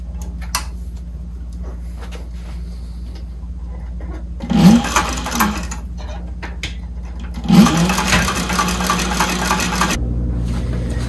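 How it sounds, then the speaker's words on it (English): A sewing machine stitches a test strip before sewing a crossbody bag, running in two loud, close bursts of rapid mechanical whirring and clatter, with quieter handling and motor hum between them. "always run a test strip through your machine before you start your project"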